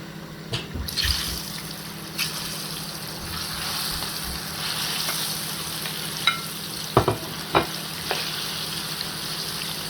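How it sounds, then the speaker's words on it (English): Steady sizzling of plantain frying in hot oil, with occasional pops and crackles and a faint background hum throughout. "I'm going to be frying it in my oil."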